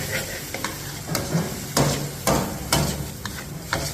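A utensil scrapes and knocks against a pan as onions stir-fry in oil with garlic. The strokes come close and rhythmic over a low sizzle, with no voices.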